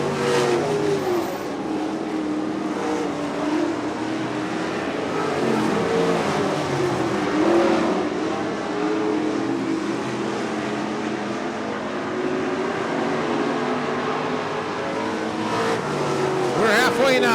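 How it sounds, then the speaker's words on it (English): Sprint cars in an IRA Lightning Sprints race roar continuously around a dirt oval, engines droning loud and steady with rising revs as cars pass, while a commentator talks over the noise. "That's that white car going down the backstretch, Haskins."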